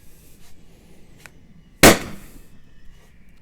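A single sharp, loud shot from an LTL Alfa 1.50 launcher firing a rubber ball, a sudden crack that decays quickly against a quiet, faintly noisy background, with no one speaking.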